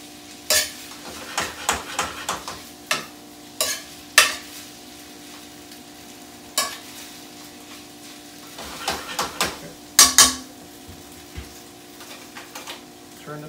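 Egg noodles being tossed and reheated in a skillet on a gas burner, giving a steady low sizzle punctuated by scattered utensil clicks and scrapes against the pan, heard close with no talking.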